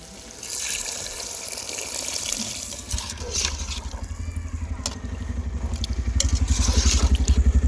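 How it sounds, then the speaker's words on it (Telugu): Water poured into chicken curry cooking in a pot, a rising gush and bubbling that grows louder and more rhythmic toward the end, close by, with some scraping. "తగిన నీళ్ళు అయితే వేస్తాను"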